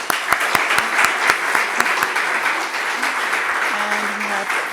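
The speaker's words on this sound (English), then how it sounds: "give a round of applause to our wonderful speakers." An audience at an evening lecture on European energy applauds its speakers, dense and loud continuous clapping with a few sharp near claps at the start and faint tones or voices underneath.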